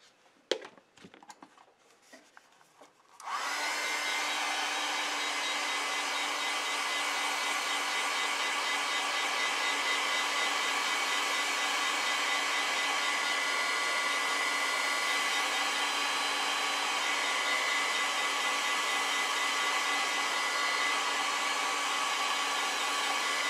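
A hair dryer dries a watercolor painting of hydrangea flowers, starting after a few seconds of faint handling noises and then blowing as a loud, steady, close whir to the end.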